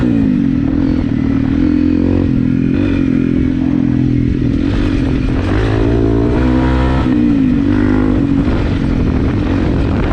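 A Honda CRF 250 Rally motorcycle engine drones loudly and steadily while being ridden, with shifting engine pitch and rough wind or road clatter throughout.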